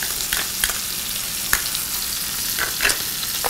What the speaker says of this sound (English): this is the point where I'll add my garlic